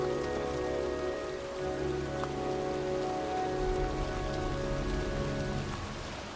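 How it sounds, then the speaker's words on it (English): Steady rain falling and pattering on surfaces in the video game Heavy Rain, a continuous wash of drops with a low rumbling ambience beneath, no voices. "It's cold. It's raining."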